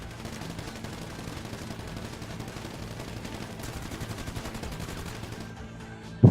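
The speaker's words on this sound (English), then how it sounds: "I missed with that missile. Not miss with that one." Rapid gunfire from a video game, where an RPG missile is launched, rattling steadily and loud throughout before a sharp final blast near the end.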